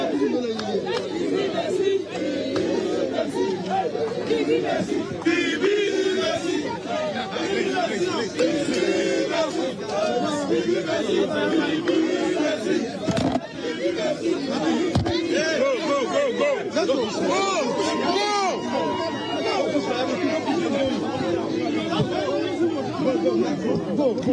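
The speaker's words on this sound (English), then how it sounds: "The crowd is getting uncontrollable here." Unruly crowd pressing in at a political press event for a Member of Parliament, a loud, continuous babble of many overlapping shouting voices close by, with a few sharp knocks.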